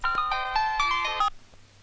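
A mobile phone ringtone plays a bright repeating melody for over a second, then cuts off, leaving quiet room tone with no talk.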